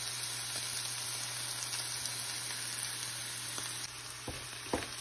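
Coleslaw vegetable mix, garlic, onions and paneer sizzle steadily in a hot pan, a close, even crackling hiss with a few soft utensil clinks near the end.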